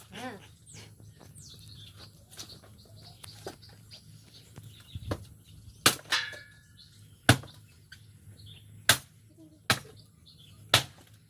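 Firewood is split with a series of sharp, loud chopping blows that come roughly once a second near the end, outdoors with birds chirping and voices in the background.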